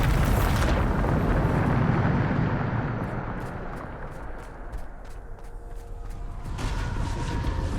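The Bombarda spell in the game Hogwarts Legacy sets off a loud blast with a heavy rumbling roar that rolls on and slowly fades over several seconds, followed by faint crackling debris.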